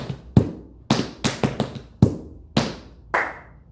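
Tap shoes striking a hard floor during maxi ford tap dance steps: about nine crisp, close taps and stomps in an uneven, syncopated rhythm, with no voices.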